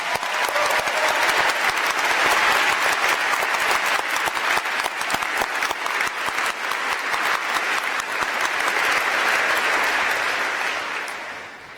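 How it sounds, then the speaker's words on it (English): Sustained, dense applause from a large audience at a 2017 university commencement ceremony, loud and steady for about eleven seconds before tapering off at the end. "Please give them a round of applause."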